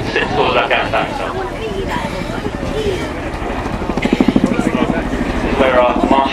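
A Chinook twin-rotor helicopter flying a display at the Waddington Airshow, its loud continuous rotor thump and engine roar filling the air, with a rhythmic blade-slap pulse growing, under an announcer talking over the noise.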